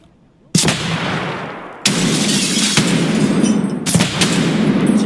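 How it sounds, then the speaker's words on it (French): Three loud, sharp gunshots from Escape from Tarkov, on the Reserve map, sounding close with long reverberant tails, spaced about a second and a half apart. "C'est moi qui tire là."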